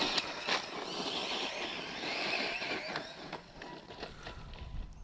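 A Corally Radix 6 RC car makes a fast speed pass, its high-pitched electric whine loud and close through the middle of the run, then fading to a fainter whir with some scuffing noise toward the end.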